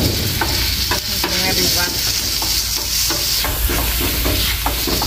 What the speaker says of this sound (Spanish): La cebolla y el ajo. Eso vamos a poner a sofreír